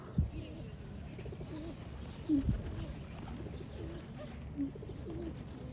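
Low, soft cooing from a pigeon in a city park in Kryvyi Rih comes in a few brief calls over a constant hum of outdoor background noise.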